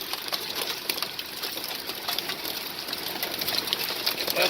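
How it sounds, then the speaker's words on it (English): Hail falling in a thunderstorm in Roswell, New Mexico, a dense continuous patter and rattle of stones striking surfaces, steady and fairly loud with scattered sharper impacts. "Look at all that hail, man."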